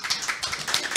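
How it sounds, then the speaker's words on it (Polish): Audience applause at a Polish education event welcoming a school director, a dense patter of many hands clapping evenly throughout the short moment. "Poproszę o brawa."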